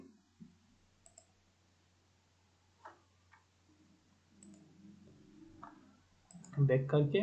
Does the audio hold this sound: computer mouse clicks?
yes